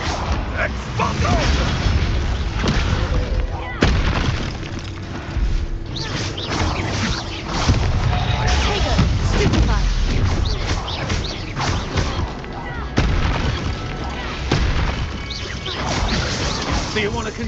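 Spell explosions and combat in the video game Hogwarts Legacy, loud continuous booms, crashes and thuds through a duel with voiced incantations and character speech.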